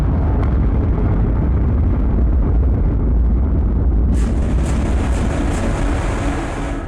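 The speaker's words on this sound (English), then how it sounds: "We're firing up the jump gate." A jump gate powering up in the game FIXFOX: a loud, continuous roaring rumble that swells, then gains a bright hissing, crackling layer partway through, fading slightly at the end.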